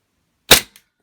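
A Tokyo Marui M9A1 stainless gas airsoft pistol fires a single BB, one sharp loud crack with a faint mechanical click just after.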